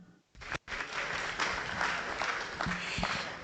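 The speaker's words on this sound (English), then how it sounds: "Let's give them another round of applause." A round of applause from an audience at a conference on the global order and Africa, dense and steady clapping filling the few seconds after a brief gap, with no speech over it.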